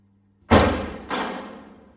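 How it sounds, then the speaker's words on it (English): Two heavy thuds against a door, the first louder and the second a half-second later, each ringing off briefly in an otherwise quiet room. "Is that the door?"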